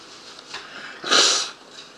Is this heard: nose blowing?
yes